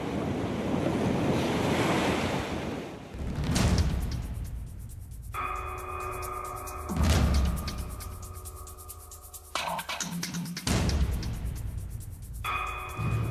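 Ocean surf breaks repeatedly on a Kerala beach where waste is dumped into the sea, heavy wind buffeting the microphone between the crashing waves.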